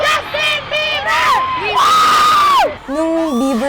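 Crowd of fans screaming and shrieking for pop star Justin Bieber, loud high-pitched yells and sustained cries overlapping close by, with excited shouting throughout.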